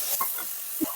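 Tomato and ginger paste fries in a pan for a black-eyed pea masala curry, heard as a soft sizzle under a few brief spoon scrapes and stirring knocks spaced through the second.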